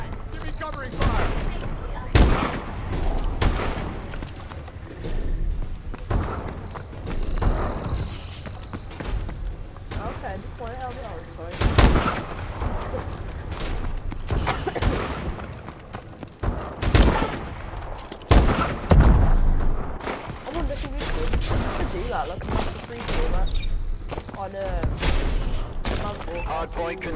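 Gunfire crackles through a video game firefight in a Hardpoint match, with rapid bursts and single loud shots repeating across the whole stretch while players talk and shout over the shooting.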